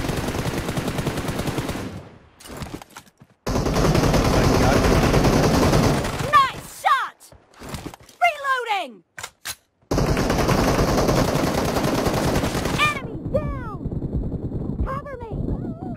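Rapid automatic gunfire bursts from a team deathmatch shooter game, loud and repeated with brief gaps, mixed with game effects and sweeping whistle-like tones.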